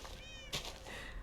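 A single short cat meow from a Minecraft character, close and clear over a faint steady background hum, with no talking.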